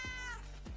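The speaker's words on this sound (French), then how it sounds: "on va entendre que des chats" Two short cat meows stand in for voice chat in the Clawball game, one after the other, close and fairly quiet.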